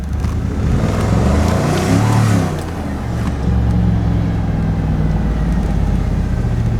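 A salvaged Volkswagen Jetta with a faulty transmission is driven hard in first or second gear, its engine note rising and dropping unevenly as the drivetrain bucks, loud and close from inside the cabin, with no talking.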